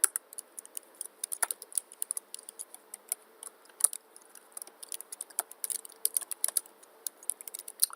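Python code being typed on a computer keyboard produces rapid, irregular key clicks up close, with quick bursts and brief pauses throughout.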